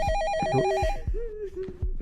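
A phone rings in the video game White Coat Red Hands, its warbling electronic tone repeating clearly in the foreground for about two seconds, with no talk over it.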